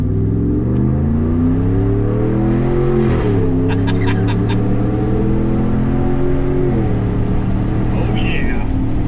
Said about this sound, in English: You just kind of hear that little bit of that V8 rumble.